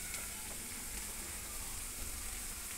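Chana dal vada (kadale bele vade) frying in hot oil, a steady, even sizzle with soft crackle that holds continuously at moderate level throughout, no voices.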